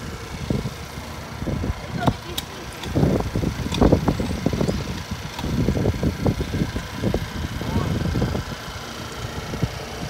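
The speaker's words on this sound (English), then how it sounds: "They gave us these weak motorcycles." Dirt motorcycle engines rev and rattle in uneven bursts on a dirt track, fairly close, with a rough revving texture over a constant mechanical drone.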